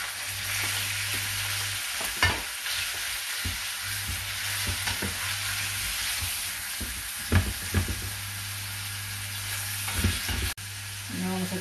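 Lamb pieces fry in hot oil for Spanish cochifrito, a steady close sizzle with a constant low hum beneath. Occasional clicks and scrapes of stirring run throughout, and a brief sharp knock comes near the end.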